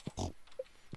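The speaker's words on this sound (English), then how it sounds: "Napoleon the pig is completely useless in the winter" A short pig oink from Napoleon, a pig in the farming game Stardew Valley, one brief grunt with faint game sounds around it.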